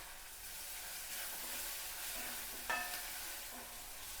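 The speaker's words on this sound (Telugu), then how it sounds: "పచ్చిమిర్చిని కొద్దిసేపు వేగనివ్వాలి." Green chilli paste frying in hot tempering oil, a steady close sizzle and hiss with a brief stir or clink midway.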